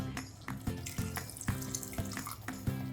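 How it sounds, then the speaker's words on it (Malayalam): Water is poured from a cup into a pan of Goan-style chicken vindaloo, making a steady splashing trickle with soft, repeated clinks and bumps across a few seconds. "ഒരു 1/4 കപ്പ് വെള്ളവും കൂടെ ഒഴിച്ചിട്ടുണ്ട്."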